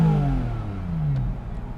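A Porsche 718 Spyder RS sports car revs in neutral, a short throaty engine blip whose pitch falls as it settles back, close and fairly loud with no talking.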